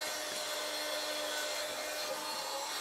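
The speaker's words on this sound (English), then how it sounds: "I thought it would be helpful to include the sound of it, so that was unedited, and exactly how loud this vacuum is" A small handheld vacuum cleaner runs continuously at close range while sucking crumbs out of purse pockets, giving a loud, steady, unbroken whine with no talking.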